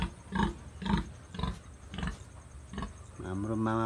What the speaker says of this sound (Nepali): यहाँ छ ठुलो सुँगुर चाहिँ